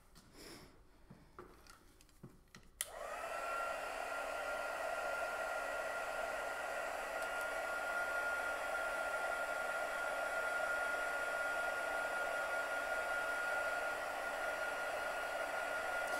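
A hair dryer blows on wet paint on a chalkboard, switching on after a few seconds of quiet handling and then holding a steady, loud whooshing drone with a constant whine for the rest of the span, with no talk.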